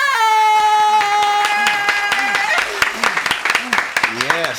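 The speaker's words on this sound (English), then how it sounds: "Let me clap for myself." Live audience clapping at an event welcoming a radio personality, starting after a long sustained musical note fades and building into scattered, fairly close claps and cheers over the last couple of seconds.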